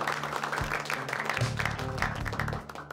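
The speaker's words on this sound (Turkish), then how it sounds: "Hani alkış?" A group of people claps together throughout, a dense, steady patter of applause at a gathering celebrating a stress coach, with a faint low hum running underneath.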